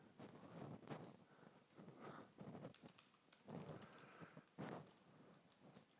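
Quiet, rapid clatter of keys typed on a computer keyboard in uneven bursts with brief pauses, no voices.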